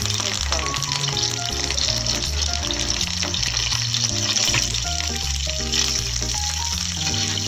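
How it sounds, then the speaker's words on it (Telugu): Green chillies and curry leaves sizzle steadily in hot oil for a fish curry, a dense continuous crackle with faint music running underneath throughout. "నూనె కాస్త మరిగిన తర్వాత మనం కట్ చేసి పెట్టుకున్న పచ్చిమిర్చి వేసుకోవాలి."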